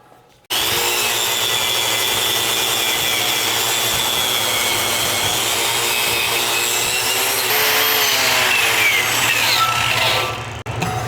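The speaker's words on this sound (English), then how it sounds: "I'm gonna wire wheel all the slag off and I'm gonna finish grinding the heads" A spinning wire wheel scrubs slag off a forged hammer, a loud continuous abrasive whir that holds steady for about ten seconds before spinning down, close up with no voices.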